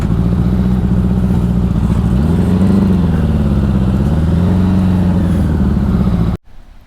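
A 1984 Honda Goldwing motorcycle pulling away in second gear, its engine a loud, continuous drone rising and falling with the throttle for about six seconds before cutting off abruptly.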